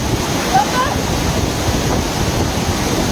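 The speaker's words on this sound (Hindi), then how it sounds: "पानी का बहुत ज़्यादा शोर है और ज़बरदस्त पानी का शोर है।" A constant heavy roar of rushing water dominates, loud and unbroken, with faint wind buffeting over it.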